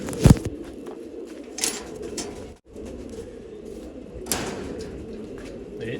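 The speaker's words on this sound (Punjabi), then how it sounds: "ਆ ਚੈੱਕ ਕਰ ਲਓ ਜੀ ਆਪਣੀ ਮਾਦੀ ਕਾਲਸਰੀ ਚਿੱਟੀਆਂ ਅੱਖਾਂ ਵਾਲੀ" A female Kalsari pigeon with white eyes, held in the hand, gives low repeated coos close up, with light rustling from handling in between.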